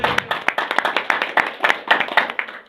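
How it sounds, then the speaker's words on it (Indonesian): An indoor audience at a product presentation gives a short burst of clapping, many hands beating in a dense, lively patter that holds steady for a few seconds. "Aplaus sekali lagi buat One More."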